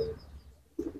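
Malwai pigeons, small-sized birds kept in a loft, give low soft coos, one faint murmur at the start and a louder burst of two or three coos near the end, close by with no talk.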